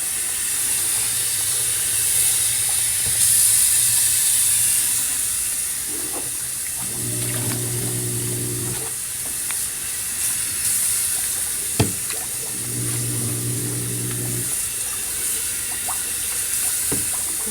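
Water runs steadily from a sink faucet during rinsing in a care-skills setting, a constant hiss with two brief heavier splashing bursts midway, with no talking.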